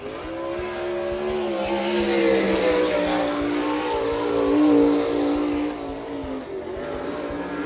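A winged IRA sprint car, number 79, pulls away from the pit gate with a loud, raspy engine roar. The revs climb and waver in rising harmonic sweeps, then drop sharply as the car moves off.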